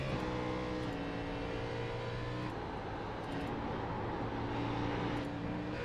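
Race cars on worn, shredded tires lap at Darlington, a dense, steady engine drone with sustained tonal whine layered over a continuous crowd-and-track din, moderately distant.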